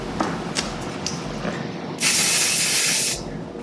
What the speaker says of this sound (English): brush everything back with the extra hairspray we just sprayed